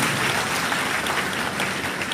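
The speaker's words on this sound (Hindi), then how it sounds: "तालियां जरा जोर से आनी चाहिए" An audience at a village school gathering in Mandla gives a steady, dense round of applause, loud and continuous throughout with no voices over it.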